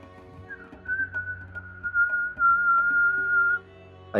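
A person whistles a long, sustained tone imitating an incoming missile or bomb, holding a steady pitch for about three seconds amid faint background clatter, close to the microphone.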